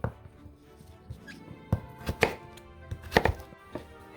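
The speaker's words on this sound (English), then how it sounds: "Then I just chop these up, cube them, and they'll go into the broth." A knife chops vegetables into cubes for a chestnut and butternut squash soup broth, giving a run of sharp, close knocks on a cutting board in an irregular rhythm, with quieter taps in between.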